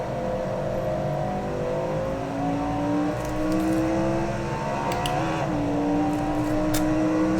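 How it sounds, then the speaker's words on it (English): Race car engine in the Assetto Corsa sim on the 1966 Monza circuit, droning loud and steady throughout with pitch sweeps as it revs and changes gear, no talking. "downshift going into the turn, before the turn."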